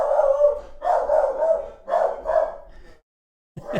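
A pet dog barks and howls indoors by the front door, several drawn-out, wavering howl-barks in a row, close and loud. A short pause follows, then another bark begins.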